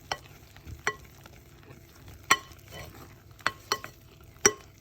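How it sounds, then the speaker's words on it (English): A spoon or utensil scrapes and clacks through reindeer cake mixture in a bowl, sharp irregular knocks and stirring scrapes spaced a second or so apart, close and moderately loud with quiet gaps between. "there will just be a brief interlude while I mix it"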